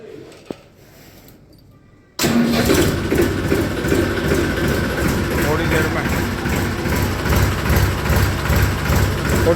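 After a couple of seconds of quiet, a heavy diesel tractor engine abruptly starts and settles into a loud, steady chugging idle.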